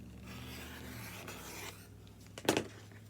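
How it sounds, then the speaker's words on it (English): Scissors or a rotary cutter slicing through quilt fabric on a cutting surface, a soft continuous rasp that ends in a brief sharper snip near the end, close and quiet with no talking. "So I'm going to cut another one."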